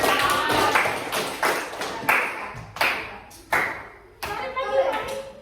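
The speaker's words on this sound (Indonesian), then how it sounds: "Tepuk tangan dulu untuk temannya." Classroom clapping for a classmate at an Indonesian elementary school, a scattered handful of sharp claps and taps in uneven bursts, with children's voices mixed in.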